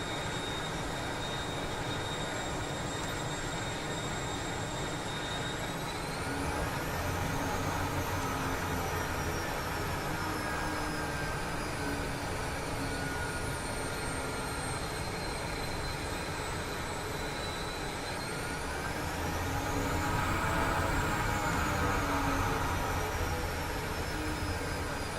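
A jet aircraft taking off from a runway in the flight simulator MSFS 2024, a steady loud engine roar with high whining tones that sweep upward as thrust builds, continuous and close throughout with no talking.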